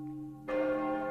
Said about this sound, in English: We're chiming this bell for his manhood and his freedom.